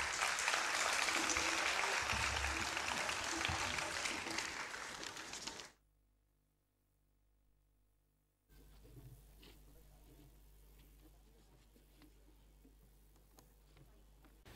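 Theatre audience applauding the Tehrik-e-Niswan group, loud dense clapping for about six seconds that stops abruptly, followed by a near-silent gap and then quiet room tone.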